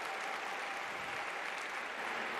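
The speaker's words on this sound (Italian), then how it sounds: "un applauso al vescovo che è qui con noi questa sera" Audience applause for a bishop at an Italian diocesan church evening event, steady dense clapping from a crowd throughout, fairly quiet and even with no voices.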